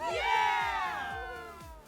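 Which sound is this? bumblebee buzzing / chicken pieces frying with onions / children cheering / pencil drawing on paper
children cheering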